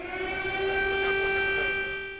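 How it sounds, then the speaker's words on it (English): A loud, sustained air raid siren wail in Kyiv, Ukraine, holding a steady pitch with a slight rise and fall, heard alone. "In a press conference bookended by air raid sirens"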